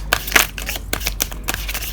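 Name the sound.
tarot cards being shuffled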